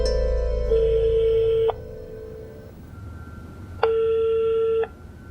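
A telephone rings in two long electronic bursts separated by a pause, loud and close, with a faint low rumble underneath.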